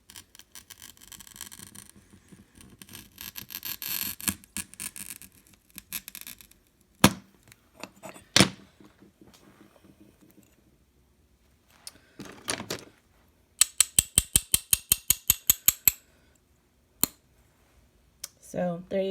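An old medieval glass cutter, lubricated with light machine oil, scores glass in short scratchy strokes and a rapid series of clicks, close and distinct between pauses, with a voice talking at the start.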